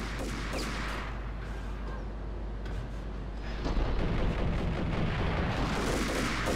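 Grenade explosion in the action game Max Payne: a sharp blast among gunfire, then a louder rumbling burst of shots and booms near the end over steady game ambience.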